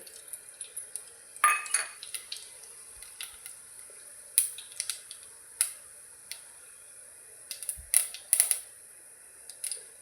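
Whole spices (bay leaf, cinnamon, green cardamom, star anise and caraway) crackle in hot oil for a mushroom dish, giving sparse, sharp little pops and ticks over a faint sizzle, with no talking.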